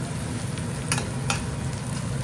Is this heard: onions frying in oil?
yes